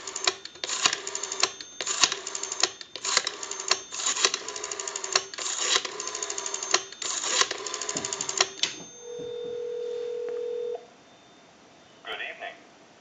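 Rotary dialing on a Western Electric 202 telephone makes rapid bursts of ticking clicks in repeated runs. A brief steady tone and a short ring-like burst follow near the end, with no talking.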